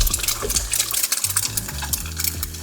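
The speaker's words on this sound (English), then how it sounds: "you're just frying that egg in the bacon fat" Sizzling crackle of an egg frying in hot bacon fat in a pan, with soft popping bursts and a low hum underneath.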